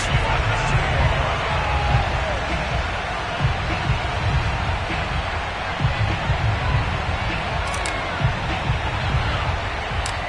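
A crowd in a Baltimore stadium keeps up a steady roar of cheering as the Ravens and Colts take the field for an American football game, with a loud wash of voices throughout.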